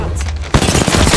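Rapid automatic weapon fire in the Apex Legends battle royale shooter: a quieter stretch breaks into a sudden loud, continuous burst of close shots.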